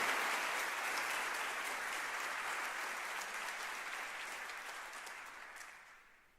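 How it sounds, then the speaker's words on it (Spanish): A congregation at a church sermon applauds in a dense, sustained round of clapping that holds steady and then fades out toward the end, with no talk over it. "dele un fuerte aplauso al Señor"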